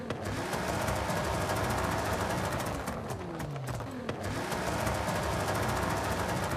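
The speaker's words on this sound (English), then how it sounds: "and if I rev the car with anti-lag" A car engine in Forza Horizon 5 revs with anti-lag fitted, a loud rough engine drone with pitch sweeps and dense rapid crackling pops and bangs running throughout.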